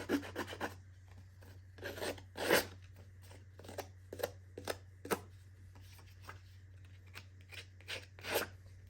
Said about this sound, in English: on this side, I'm going to distress it since I didn't tear it and I cut it